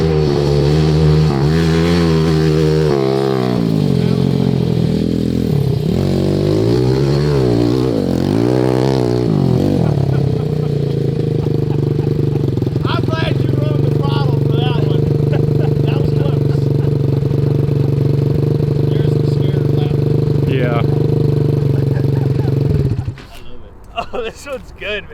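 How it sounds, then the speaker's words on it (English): A 190cc shifter go-kart engine drones loud and steady on a dirt track, its pitch rising and dipping as it revs, before cutting off near the end; voices talk over it. "This is a go-kart that you have to drive."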